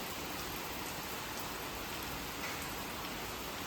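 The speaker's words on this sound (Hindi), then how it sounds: "होते होते ना बारिश तेज हो चुकी है" Heavy rain pours down steadily on a surface, a dense, even hiss of drops that stays constant throughout with no voices.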